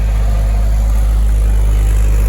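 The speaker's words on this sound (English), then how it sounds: "Engine sounds really good." A V8 LS-swapped engine in an International Scout 80 idles steadily with a carburetor that barely runs off choke, producing a close, continuous low rumble with no voices over it.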